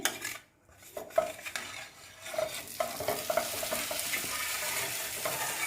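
Egg-dipped bread frying in a pan and turned over with a spatula: a steady sizzle with scraping and clinks of the utensil against the pan, close by, with no voices.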